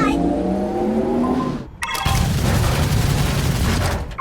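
Loud engine roar and rapid gunfire from D.Va's Porsche skin mech in Overwatch 2. A rising revving whine cuts off, then a dense burst of booming shots follows up close.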